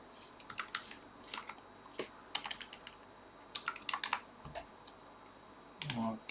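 Fingers tap out a password on a computer keyboard while setting up an Arduino UNO Q board, giving scattered bursts of close, crisp keystrokes with short pauses between.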